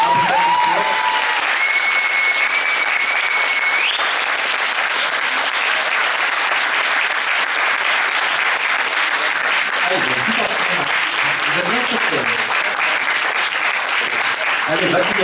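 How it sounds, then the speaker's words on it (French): Audience at a cosplay contest in Dijon applauding, a long, continuous, loud roar of clapping that holds steady throughout, with a host's voice briefly over it. "on peut applaudir"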